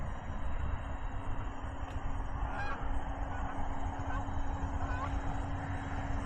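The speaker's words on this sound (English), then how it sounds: "Oh, I got geese." Wild geese honk in scattered calls, a few faint distant honks over a steady broad outdoor rumble and hum at an RC airplane flying field.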